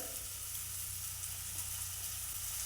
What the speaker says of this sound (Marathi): एक छोटा बारीक चिरलेला टोमॅटो घातला आहे मी हे चांगलं परतून घेऊया